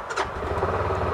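A Massimo TBOSS550 engine is started with a key, catching quickly into a throaty, rumbling run. The burst is brief and close.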